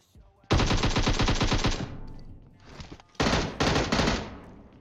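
Gunfire in the game PUBG Mobile: two loud, rapid bursts of shots, close and harsh, separated by a short lull, with no talk.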